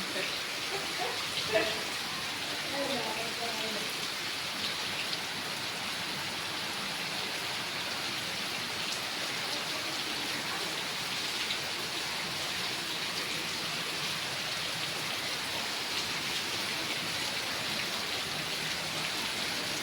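Heavy rain pours down in Ahmedabad, a steady broadband hiss that holds level for the whole stretch, with faint voices briefly surfacing near the start.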